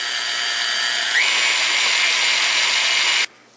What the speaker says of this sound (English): just start that mixing on low. Turn it up a bit.